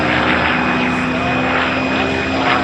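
A P-51 Mustang warbird's piston engine and propeller drone loudly and steadily at an air fair aerobatics display, a continuous rough roar with a faint shifting whine.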